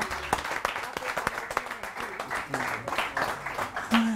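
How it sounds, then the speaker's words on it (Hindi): A small group applauds on a television morning show, with scattered, uneven claps that continue steadily for a few seconds, with some voices mixed in. "तालियां"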